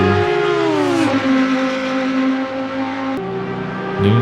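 GT3 race cars in Assetto Corsa Competizione running side by side, with loud, sustained engine howls, a shift in pitch as one car changes gear, and a second engine tone layered beneath, close and unbroken.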